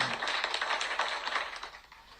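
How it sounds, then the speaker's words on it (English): A short burst of clapping during a live-streamed talk show, a quick flurry of hand claps that fades toward the end, with no voices over it. "Thank you very much there for the rounds of applause and round of applause for the claps"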